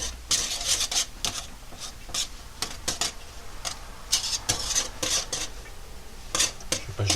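A whisk scrapes and rattles through hot couscous grains in a pot, giving repeated bright metallic strokes in an irregular stirring rhythm, close and fairly quiet.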